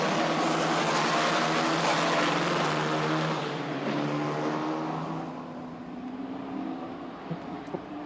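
Race cars lap the Sepang circuit before a race start, a loud engine drone that swells close by and then fades into the distance as the cars pass and move away.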